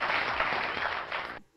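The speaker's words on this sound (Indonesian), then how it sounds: "tepuk tangan" Brief burst of applause at the close of an online motion graphics sharing session, a dense, uniform clapping texture that cuts off abruptly near the end.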